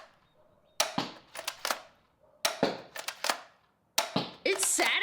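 Crossbow fired as fast as possible, three quick bursts of sharp snapping clicks and mechanical rattling, each separated by a short pause, close and loud.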